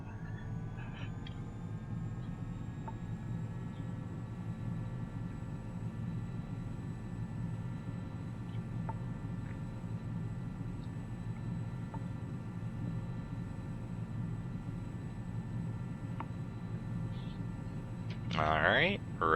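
A steady, loud aircraft engine drone at takeoff throttle in X-Plane 11, a continuous low rumble running unbroken through the whole stretch, with a brief burst of radio chatter near the end.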